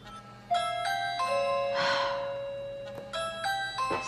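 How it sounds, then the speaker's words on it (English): A front-door doorbell rings, with tones in several bursts heard fairly close in a quiet room, and a soft breathy sound midway. "doorbell and see if there's somebody actually standing there waiting for me"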